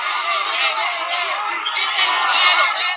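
Crowd mobbing pro-Maduro militia near the Colombian border, a dense roar of shouting voices, steady and close throughout with no pauses.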